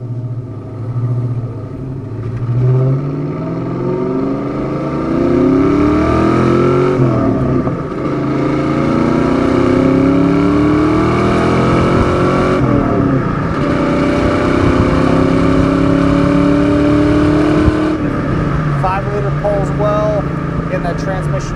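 A 1988 Ford Mustang LX 5.0 coupe with a five-speed manual accelerates hard, its V8 rising through a long rev sweep, dropping at a shift and climbing again, loud and close from inside the car, with a voice talking over it.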